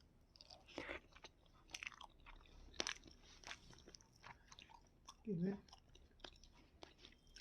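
Someone chews a mouthful of stuffed brinjal and dried fish curry, with soft, close-up wet bites and smacks repeating at a slow pace, faint and intimate, with a brief low murmur midway.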